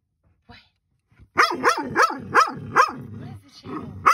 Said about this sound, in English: terrorizing us with her squeaking and barking